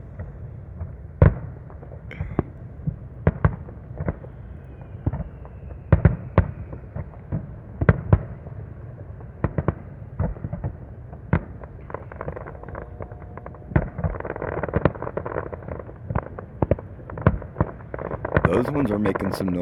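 Night fireworks display bursting overhead, a long series of sharp cracks and booms at irregular intervals, some near and loud, others fainter, with a louder crackling cluster toward the end and occasional voices.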